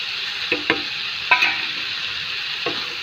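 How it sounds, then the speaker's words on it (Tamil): Masala stirred into chicken curry frying in a pan: steady hiss of sizzling with several distinct scraping stirs of a spoon at irregular intervals, close and moderately loud, without speech. "மசாலா சேர்த்து நல்லா கிண்டி விட வேண்டியதான்."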